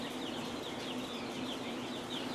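A brooder of young chicks, button quail, Brahma chicks, goslings and ducklings gives a continuous chorus of high peeping and cheeping, close and steady with no talk.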